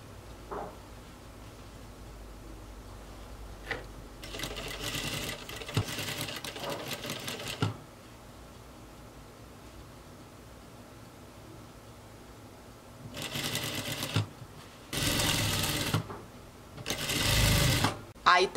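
A sewing machine stitches a skirt seam in short bursts, with loud mechanical whirring runs separated by pauses, and someone speaks between the runs.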